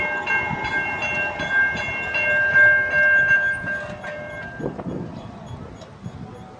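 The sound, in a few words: passenger train passing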